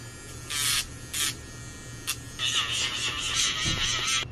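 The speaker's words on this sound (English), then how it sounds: "I also will take the drill and kind of shape the nail" A high-pitched electric nail drill shaping a gel nail whines in short bursts, then runs steadily, over a low background hum.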